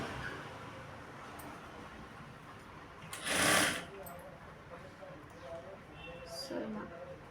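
A sewing machine works along a blouse lining starting from the collar, its quiet hum running beneath a voice, with one brief louder burst partway through.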